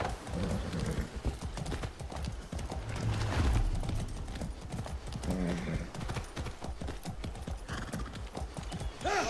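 Steady clip-clop of horse hooves with an occasional whinny in Far Cry 6, mixed with game music and effects, continuous and fairly loud throughout.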